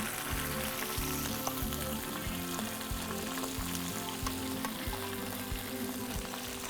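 Blanched green beans with salt, pepper, chili peppers and roasted garlic warming through in a hot pan, a busy continuous sizzle and crackle, close and steady with occasional stirring knocks.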